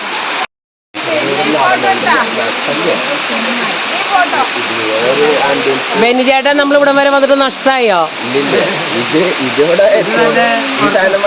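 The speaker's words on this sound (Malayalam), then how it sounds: "ട്രക്കിങ്ങിൻ്റെ ലാസ്റ്റ് ഡെസ്റ്റിനേഷൻ സ്പോട്ടാണ് ചൂരത്തറ വെള്ളച്ചാട്ടം" Choorathara waterfall in the Chimmini forest, the last stop of a forest trek, roars as a steady broadband rush of falling water, with people talking close by over it.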